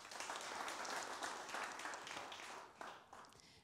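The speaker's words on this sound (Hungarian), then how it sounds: "Köszönjük szépen a tapsot" An audience applauds steadily at a press conference for a stage production, a dense wash of clapping that holds for a few seconds before starting to thin out.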